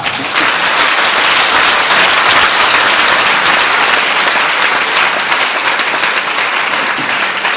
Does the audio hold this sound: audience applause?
yes